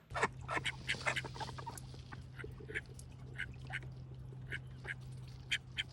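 Ducks quacking in a repeated, irregular series of short calls, some nearer and louder than others, over a steady low hum.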